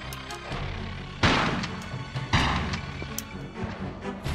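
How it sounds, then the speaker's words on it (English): Shotgun blasts aimed at a beetle in the Tomb Raider: The Last Revelation game, set in the Chambers of Tulun: two loud booming shots with crashing tails over a steady game ambience, no talk. "I'm going to go ahead and take him out with a shotgun"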